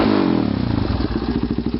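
A 2006 Yamaha Raptor 350 ATV gets short blips of throttle, the engine rising then settling into a loud, choppy, pulsing idle close by.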